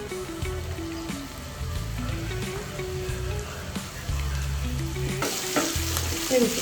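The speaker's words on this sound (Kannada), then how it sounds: "ಈಗ ಸ್ವಲ್ಪ ಗೋಲ್ಡನ್ ಕಲರ್ ಬರೋ ತನಕ ಫ್ರೈ ಮಾಡ್ತೀನಿ" Onions frying in oil until golden for a mung dal, a steady close sizzle with intermittent stirring scrapes and low clanks from the pan.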